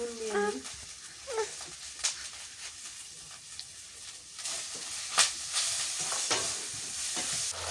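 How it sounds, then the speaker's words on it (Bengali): Ground chili, turmeric and curry leaf powder with salt sautéing in a pan: a steady close sizzle with scraping stirs. A few clinks and brief voiced bits sound over it. "মশলাটা খুব সুন্দর করে কষাই নিলাম আমি।"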